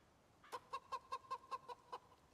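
A chicken in the Project Zomboid video game clucks in a quick run of about nine even, close-up clucks, fairly quiet, ending on a sudden louder burst.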